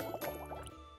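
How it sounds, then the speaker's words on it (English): Vinegar and baking soda react in a fizzing shamrock experiment, giving a brief, close wet bubbling and dripping sound with soft liquid pops and squishes. "So when the two react, the fizzing begins. You can hear it, you can see it"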